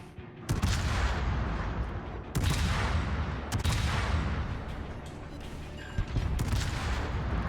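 Warship guns fire high-explosive salvos in a naval battle video game, with several heavy booming volleys landing over a constant roar of battle noise, loud and dense.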